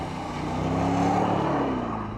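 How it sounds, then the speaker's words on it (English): A heavy Bentley Mulsanne Sport with a pushrod V8 ploughs through standing water. The engine drones and swells close by over a broad rush of tyre and surface noise, with no talking. "the Mulsanne is so big and heavy, it just sort of ploughs its way through, forcing those tyres into the surface"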